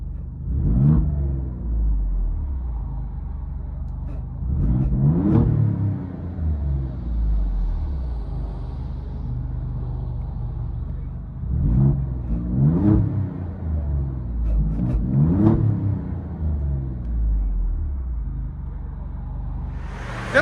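A 2023 Alfa Romeo Quadrifoglio's 2.9L V6 with the resonator deleted, heard from inside the cabin, rumbles low and swells in several repeated revs, each rising and falling over a steady droning idle.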